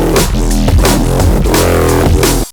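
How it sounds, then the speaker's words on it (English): A gritty neurofunk bass synth built in Phase Plant, growling and shifting in tone over a loud beat with punchy drum hits, dense and continuous before cutting off sharply. "I'm going to show you how to make a really gangster bass called the Al Capone bass"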